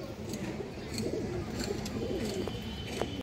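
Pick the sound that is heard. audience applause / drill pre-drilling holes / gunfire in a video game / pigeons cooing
pigeons cooing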